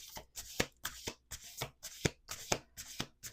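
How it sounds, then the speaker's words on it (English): A deck of playing cards shuffled repeatedly during a tarot-style reading, giving seven quick riffling bursts in a steady rhythm, close and moderately soft with no talking. "that was 2 shuffles, but I'm gonna do one more"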